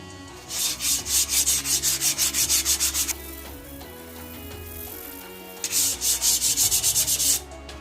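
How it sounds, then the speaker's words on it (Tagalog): Rapid rhythmic scraping of 120-grit sandpaper rubbing leftover paint off a bike frame, two bursts of quick back-and-forth strokes separated by a short pause, close and loud. "Ito namang maliliit na natirang pintura, kaya na yan ng liha na 120 grit."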